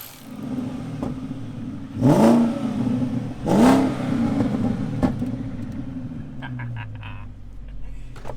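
A BMW 540i, an old beater with a fixed leak, idles with a low rumble, then its engine revs sharply twice in quick succession before settling back and pulling away on a test drive.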